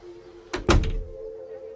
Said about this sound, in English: And the woman closed the door.